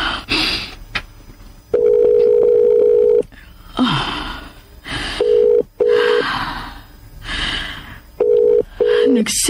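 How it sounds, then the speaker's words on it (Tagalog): A mobile phone ringback tone sounds while a call is placed, repeated steady beeps in regular bursts with pauses, with talk and breathy vocal sounds in between. "Tawagan ko siya. Ang akong phone."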